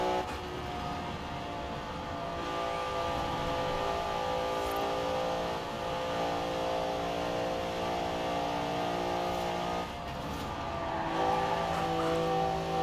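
Rossion Q1 sports car engine in Forza Horizon 4, driven up and down a highway weaving through traffic, a loud sustained drone with steady revving and small shifts in pitch throughout, no talking over it.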